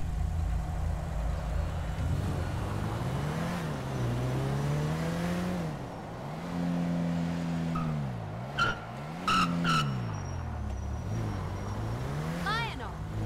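Car in a roleplay video game driving along with the engine revving up and down through repeated gear changes, tires squealing and skidding in short bursts, steady and close throughout.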